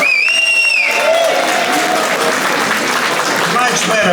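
Audience at a Christmas dinner breaks into loud, sustained applause close to the microphone, with a few voices and cheers rising over the clapping.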